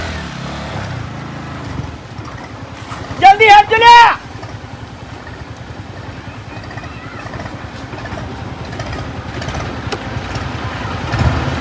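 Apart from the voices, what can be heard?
motorcycles passing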